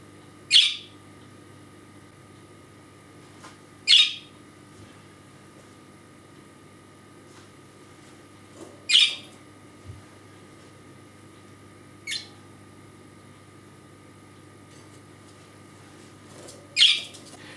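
A pet bird indoors gives sharp, loud chirps and squawks in isolated bursts spaced a few seconds apart, five calls over a quiet room with a low steady hum underneath.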